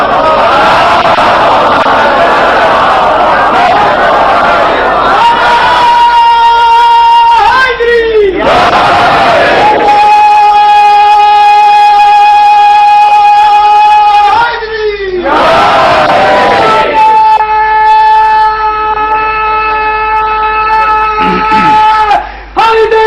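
A large crowd at a religious gathering in India chants religious slogans loudly in unison, with long sustained shouted phrases rising and falling in repeated waves and brief pauses between them.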